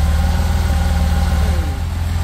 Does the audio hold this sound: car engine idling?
yes